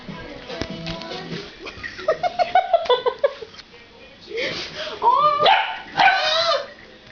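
Pet dog barks and yips indoors in short bursts mixed with whimpers, close and fairly loud, while someone talks and scolds over it.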